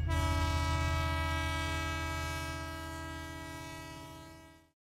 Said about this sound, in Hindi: Train runs on the track.